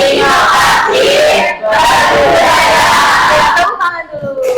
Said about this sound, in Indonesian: Kita yel dulu supaya nggak lemes lagi